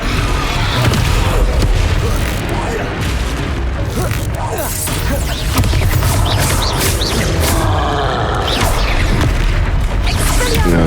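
In Hogwarts Legacy, a Descendo spell slams down amid loud, dense combat booms and crashes that fill the whole stretch, with game voices talking throughout.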